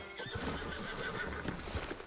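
A horse whinnies in the Red Dead Redemption II video game, close and clear, with clip-clop hoofbeats and outdoor woodland ambience underneath.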